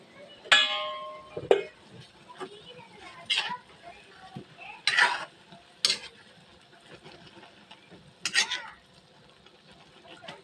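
Taro stem adobo stirred in a pan: a few sharp scraping and clinking strokes of a utensil against the pan, spaced irregularly over a soft background with quiet voices in places.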